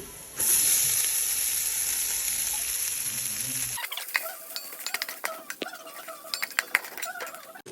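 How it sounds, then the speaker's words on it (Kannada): Cooked rice vermicelli (shavige) sizzles steadily in a hot pan, a loud continuous fry that soon gives way to sharp clinks and scrapes of a spoon stirring against the metal. "ಬೇಯಿಸಿರುವಂತಹ ಶಾವಿಗೆ ಹಾಕ್ತಾ ಇದ್ದೀನಿ."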